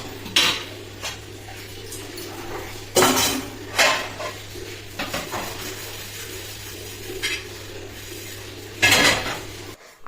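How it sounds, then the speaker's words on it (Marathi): Dishes, steel pots and cutlery being scrubbed and washed in a home kitchen, with repeated clattering clanks and scraping between quieter rinsing stretches, a steady low hum running underneath. "आता ते करण्याच्या आधी ना म्हणलं इथे भांडे वगैरे घासून घेऊया।"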